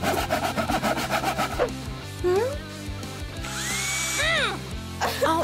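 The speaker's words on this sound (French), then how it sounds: "Il n'arrête pas de scier et de percer." Sawing and drilling on wood while a ladder is built nearby, heard as a rapid rasping saw stroke followed by whirring drill tones, with a voice speaking over the noise.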